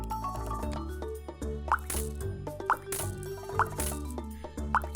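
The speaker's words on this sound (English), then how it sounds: "Some water wouldn't hurt as well." Water sounds from watering tomato seeds in a homemade farming video game: a looping series of about four bright liquid plops and drips over a soft, repeating musical background.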